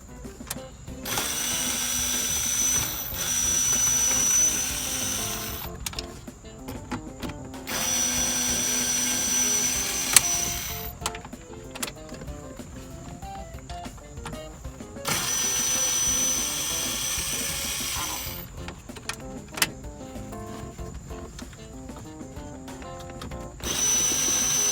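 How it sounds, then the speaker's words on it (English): A power driver whirs in long bursts, removing the four screws holding the factory radio in a Buick LaCrosse dashboard, with ratcheting pauses and small clicks between runs, loud and close. "Now just remove the 4 screw, and radio would be come out easily."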